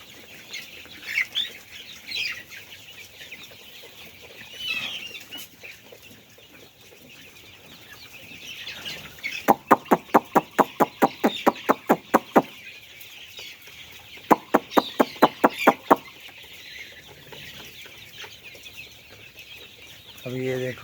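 Roosters and chickens on a farm in the morning, with scattered clucks and calls and two bursts of rapid rhythmic flapping or pecking, close and fairly loud over a quiet background.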